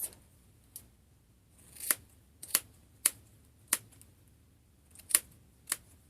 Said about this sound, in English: Very important to have some sharp scissors, because these are not sharp at all.